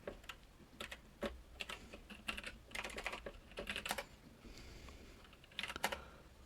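Keys clattering on a computer keyboard while entering a command in a command prompt, close and moderately loud, in irregular bursts of quick taps with short pauses between them and no talking.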